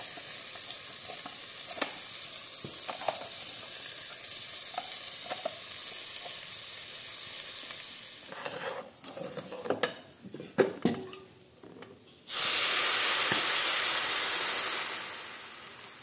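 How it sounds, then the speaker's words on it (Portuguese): Golden garlic frying in a pan on a wood-fired stove, a soft steady sizzle with a few clinks, then a burst of clattering as rice goes in and a loud, sustained hiss erupts. "Já vou jogar o arroz aqui também. O alho já tá douradinho."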